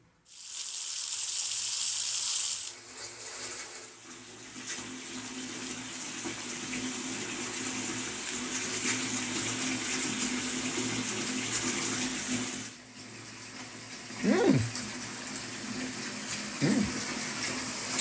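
Water runs steadily from a tap for a long stretch, splashing into a jug with strawberry syrup and ice, with a brief pause and a few clinks near the end.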